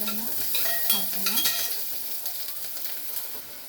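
Ingredients frying in a pan for a Malnad-style rajma dal curry, a close hissing sizzle with stirring scrapes that settles into a quieter steady fry.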